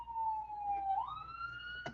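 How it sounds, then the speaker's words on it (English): A siren wails past outside, one steady sustained tone that dips and then rises in pitch as it goes by, clear and moderately loud with no talk over it. "Excuse you for the siren."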